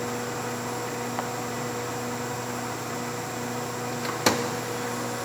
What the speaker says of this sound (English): there's the spindle running